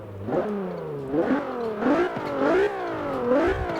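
A car engine in the Postal video game revs repeatedly, each rise in pitch followed by a drop, close and loud with a buzzy, harmonic tone, about five rev cycles with no other sound.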